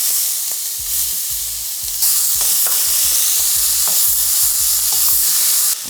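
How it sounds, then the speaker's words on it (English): Garlic and onions sizzling in hot oil in a pan for a beef curry, a constant bright hiss broken by rhythmic scraping and stirring strokes, close and loud with no talking. "Now I add in the onions."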